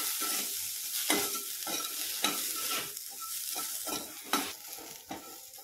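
Sweet corn chaat mixture is stirred with a spoon, giving a run of scraping, rustling strokes and clinks against the bowl over a steady bright hiss, close and moderately loud, with no talking.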